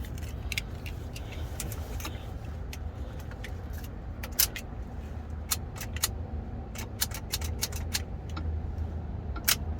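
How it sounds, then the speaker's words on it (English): Keys jangle in short, irregular metallic bursts inside a Corvette drift car being readied to start, over a steady low rumble of nearby traffic or engine noise. "I grab my keys."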